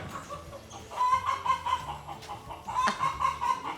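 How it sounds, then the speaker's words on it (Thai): Chickens cluck and call close by in a steady, repeated pattern, with faint background noise and no speech. "อาจจะได้ยินเสียงไก่ขออภัยด้วยนะครับ"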